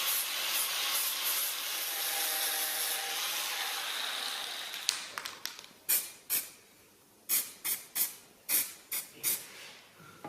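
Paint sprayed onto metal parts of a military vehicle's rear spring and brake area to stop rust: a steady, close aerosol hiss for about five seconds, then a run of sharp, separate rattling bursts.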